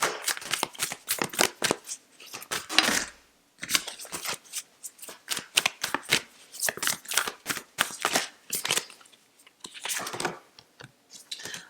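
Tarot cards are shuffled for an Aries Yogic Path card reading, giving many quick crisp riffling and flicking bursts, close and fairly loud, with short pauses between rounds and no talking.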